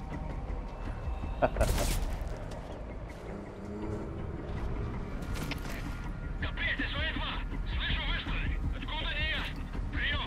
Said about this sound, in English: Yeah, you heard some gunfire.